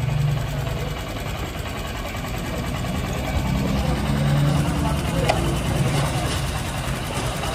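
A Honda SP 125 BS6 motorcycle engine idles steadily up close, an even mechanical chugging with a slight ticking, while someone talks over it.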